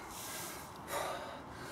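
Heavy, forceful breathing just after a set of repeated hill runs, a short burst of close, airy exhales with one stronger puff near the middle.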